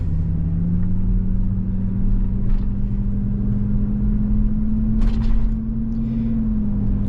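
A 1997 Ford Expedition Eddie Bauer accelerating on a night drive: a steady, low engine drone heard from inside the cabin, rising gently, with faint rattles and bumps over it.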